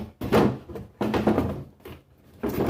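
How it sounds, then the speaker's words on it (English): Antique wooden dresser drawer sliding shut on a replaced dowel, giving a few soft wooden thumps and a short scraping slide, close and fairly loud. "That slides in much better with the replaced dowel there."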